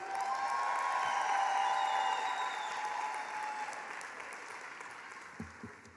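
A graduation audience keeps clapping in a dense, continuous roll of applause that swells early and then gradually thins toward the end, with a few louder stray claps near the close.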